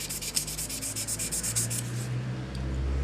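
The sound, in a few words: sanding a steel decorative stamp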